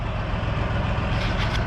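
A semi truck's diesel engine idles steadily at close range, a continuous low rumble with a faint hiss above it and no voices.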